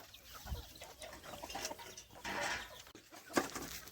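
Hens on a poultry farm cluck softly and intermittently amid faint rustling and shuffling while being fed azolla, with no one talking.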